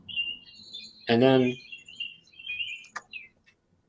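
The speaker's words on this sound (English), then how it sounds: "I hear the birds chirping somewhere." Small birds chirping somewhere outdoors, thin high tweets and short calls scattered across the moment, faint behind nearby speech.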